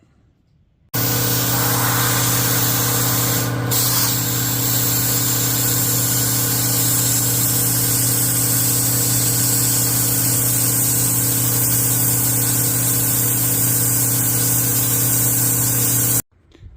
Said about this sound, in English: So we'll run our plasma cutter right along this straight edge